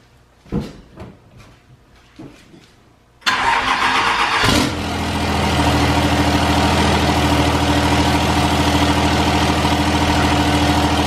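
A few faint clicks and clunks, then a 5.9 third-generation Cummins diesel truck engine with a hood stack cranks and roars to life, settling into a loud, steady idle.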